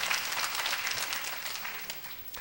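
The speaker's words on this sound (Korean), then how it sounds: "참 잘하셨다고 박수 한번 해주시기 바랍니다." A church congregation claps during Sunday morning worship announcements, giving a steady round of applause that is fairly faint and slightly distant.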